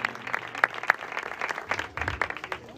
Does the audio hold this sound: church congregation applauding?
yes